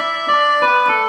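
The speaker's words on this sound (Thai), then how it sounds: "อันนี้เสียงแคน" An electronic keyboard's khaen voice preset sounds a sustained reedy chord of steady, drone-like tones with slight swells, playing alone and fairly loud.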